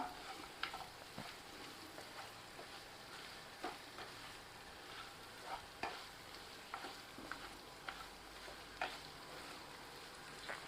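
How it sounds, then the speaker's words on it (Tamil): Chicken chukka stirred in a pan with crushed garlic, quiet rhythmic spatula scrapes and taps repeating every second or so over a low, faint sizzle. "இதை நம்ம நல்லா கலந்து விட்டுக்கலாம்"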